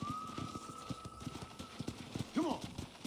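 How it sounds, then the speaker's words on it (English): Horse hooves clip-clopping in Red Dead Redemption, a steady trotting beat of close, hollow knocks, with a brief whinny near the end. "I picked out a fine horse for you. Giddy up!"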